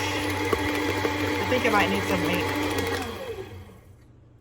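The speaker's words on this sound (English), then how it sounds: "my KitchenAid, it doesn't seem to have like a gentle stir anymore. It's like it goes all out on the very first notch." A KitchenAid stand mixer whirs at full speed even on its lowest setting, a steady loud motor drone that winds down and fades near the end, with a person talking over it.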